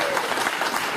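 Dense, steady applause from a large crowd of Arsenal Indonesia supporters at a press event, loud and continuous.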